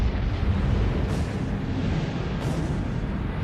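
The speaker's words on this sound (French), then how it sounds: "Une explosion de rayons gamma" A deep, sustained rumbling explosion meant to evoke a gamma-ray burst from a collapsing star rolls on continuously, heavy in the low end, with two brief hissing swells layered over the roar.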